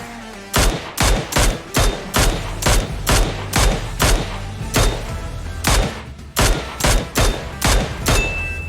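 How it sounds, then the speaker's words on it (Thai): Rapid bursts of AK, M4 and M7 rifle fire in the mobile game PUBG Mobile, loud and close, repeating in quick cracks with brief gaps, no talking over it. "มี AK M4 M7 ยิงกันมั่วไปหมด"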